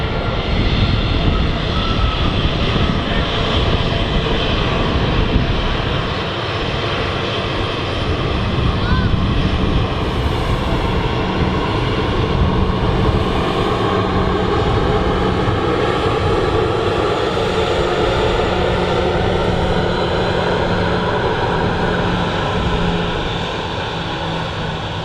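A Ryanair Boeing 737 jet roars steadily on the runway at Manchester Airport, loud and sustained as its engine tone slowly shifts.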